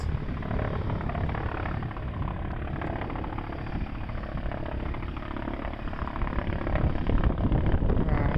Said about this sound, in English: Looks like the helicopter is right out there somewhere.